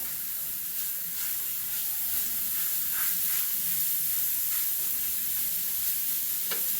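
Ground pork sizzles and hisses loudly in a hot pan as it renders for pork sugo with sage, a steady frying roar with faint scraping of stirring.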